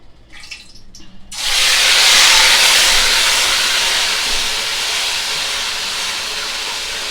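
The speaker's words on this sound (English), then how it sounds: "I'll just be adding the pork to the oil and give it a kind of pot roast look." Pork hitting hot oil in a pot on the stovetop for jerk pork, a loud, steady hiss that bursts in suddenly after a moment of quieter clatter and holds, easing slightly, to the end.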